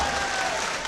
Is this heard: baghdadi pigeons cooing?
no